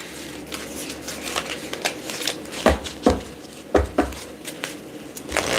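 Tarot cards are shuffled by hand in quiet riffling bursts, with a few sharp taps as the deck is squared, mostly without talk.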